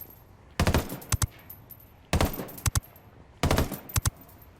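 LVOA-C rifle fire in Ghost Recon Wildlands, three loud close bursts of rapid automatic shots separated by short pauses, each burst ending in a couple of sharp single cracks.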